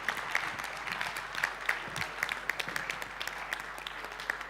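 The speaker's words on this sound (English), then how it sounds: "Again, a round of applause. A round of applause." A modest round of audience applause at a forum on displacement in Africa, with scattered individual claps standing out over a thin steady patter at a moderate distance.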